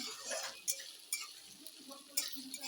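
Ginger garlic paste fries quietly with chopped onions in a pan for chicken kosha, a soft sizzle broken by a few sharp clinks of the stirring spoon.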